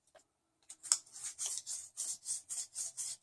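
Grit paper sands and polishes a hammer lug in rhythmic back-and-forth strokes, a close, steady scratching about three strokes per second after a few tentative rubs.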